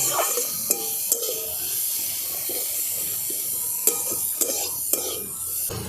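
Vegetables and tomato frying and being stirred in a pan, with steady sizzling and clattering scrapes and a few sharp utensil knocks throughout, close by with no talk.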